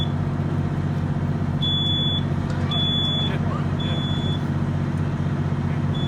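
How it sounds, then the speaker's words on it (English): Smoke detector alarm sounding during a fire prevention demonstration, giving short high-pitched beeps over a steady loud roar of fire and water discharge. "One important thing here is the smoke detector. It went off very, very early."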